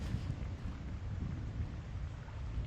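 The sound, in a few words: thunderstorm with lightning in video game Thief 2 fan mission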